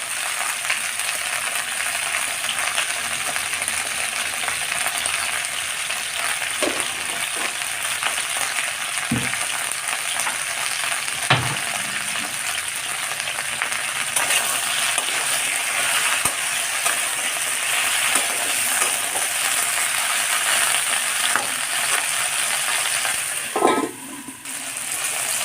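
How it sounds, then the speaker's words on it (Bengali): Okra fries in a pan with a steady, close crackling sizzle, punctuated by occasional sharp clinks and scrapes of stirring and a brief knock near the end. "আর ভেন্ডিকে আমি বেশিক্ষণ ভাজবো না, বলে সবুজ ভাব কালারটা নষ্ট হয়ে যাবে।"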